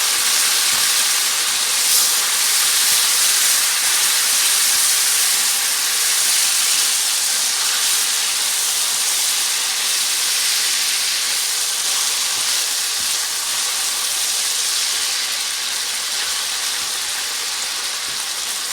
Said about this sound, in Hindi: प्याज और टमाटर को अच्छी तरह गलने तक हम इसको बिल्कुल लो फ्लेम पे पकाएंगे।